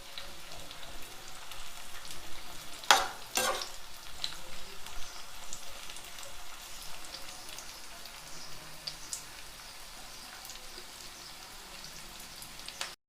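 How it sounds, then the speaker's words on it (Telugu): Bitter gourd pieces frying in oil with a faint, steady sizzle, broken by a couple of brief clinks of stirring and light scraping. "ఎర్రగా మంచిగా వేయించుకోవాలి ముక్కలు"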